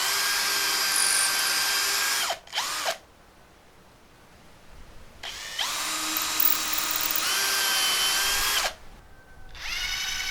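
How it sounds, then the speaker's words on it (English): Power drill boring holes into a wooden base: two long, loud high whining runs with a short burst between them, a quiet gap in the middle, and a third burst starting at the end. "So now I'm just gonna slightly drill the holes in the base as well."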